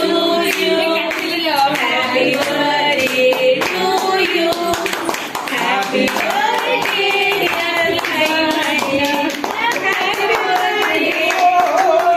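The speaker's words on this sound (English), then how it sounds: "Please everybody clap." Birthday party guests clap along in a steady rhythmic beat, loud and close, mixed with voices singing and chattering throughout.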